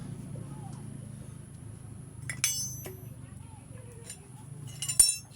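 A cap being put back onto a motorcycle telescopic front shock after an oil seal change, heard as a few faint metallic clinks and taps over a low hum, with someone talking quietly.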